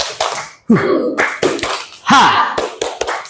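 A group of children in a classroom claps a rhythmic spirit cheer, sharp clap bursts in a quick pattern with shouted voices and chatter between them.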